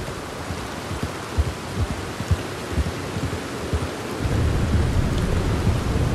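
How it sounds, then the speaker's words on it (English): Steady rain pours in a Red Dead Redemption 2 thunderstorm, with low rumbles of thunder rolling underneath and the downpour growing heavier and denser toward the end. "Another storm already."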